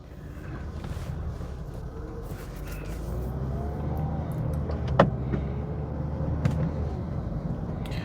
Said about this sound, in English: Very musical transmission. It whines like my Ford Fairmont AU in first.